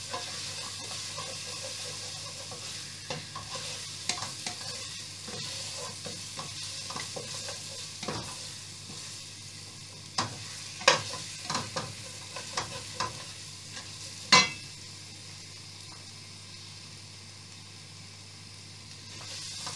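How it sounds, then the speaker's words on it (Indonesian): Spices sauté in a pan for kebuli rice chicken over a lowered flame, a faint steady sizzle broken by several sharp clacks and scrapes of a spatula against the pan. "We saute until smells go out"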